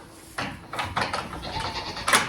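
Goats bleating on a farm near hay, several overlapping wavering cries rising and falling in quick succession, fairly close, with a sharper brighter call near the end and no speech.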